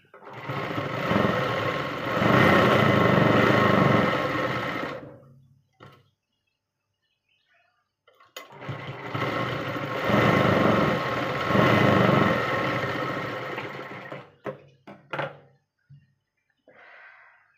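A sewing machine stitching the side seams of a blouse being taken in for fitting runs in two steady, loud whirring bursts, each several seconds long, with a quiet gap and a few clicks and knocks between them.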